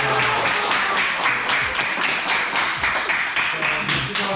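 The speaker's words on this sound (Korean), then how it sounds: "박수" Students and teachers at a school class award ceremony for a running challenge clap in a dense, steady round of applause that lasts throughout, close and fairly loud, with faint voices underneath.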